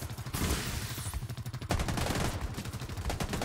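Rapid automatic gunfire in The Division 2 rattles in quick repeated bursts, fairly close and sustained throughout with a sharper volley partway through.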